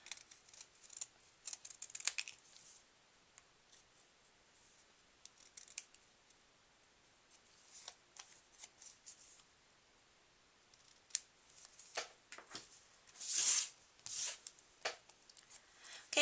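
Scissors snip through card for a handmade birthday card, a scattering of quiet close crisp cuts in irregular rhythm, with a denser burst of snipping near the end.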